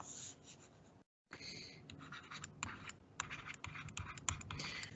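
A pen or stylus writes math during a live online class, giving quick scratchy strokes in uneven bursts, with a brief silent gap near the start and no talking.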